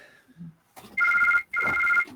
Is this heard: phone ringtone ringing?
yes